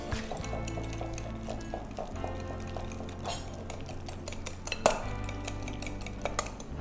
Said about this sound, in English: once that's done, you just whisk it up a little bit